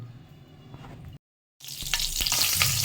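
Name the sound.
green chilies frying in hot oil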